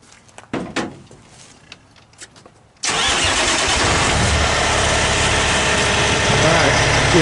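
A truck's diesel engine cranks briefly and catches, settling into a loud, steady idle close by after a few knocks and a short spoken remark beforehand.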